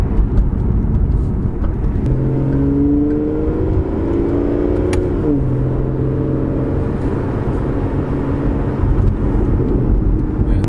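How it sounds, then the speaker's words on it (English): Aston Martin Vanquish cruising on the road, a steady loud engine drone with tyre and road noise throughout, the pitch rising and falling gently as it shifts through gears. "I'm just going to sit back, pretend to be an Aston Martin driver, and I suppose just go for a cruise"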